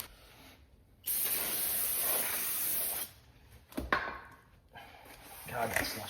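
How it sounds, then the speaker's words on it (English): Brake cleaner is sprayed on new Ford F-150 brake rotors in a long, close, steady hiss lasting about two seconds, then a few shorter, uneven spray bursts. "You need to brake clean these because there's an oil on them."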